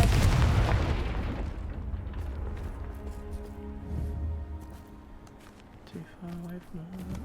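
A Confringo spell explosion in the Hogwarts Legacy video game, a single loud booming blast at the start that decays into a rumbling tail, followed by softer game tones and a person talking.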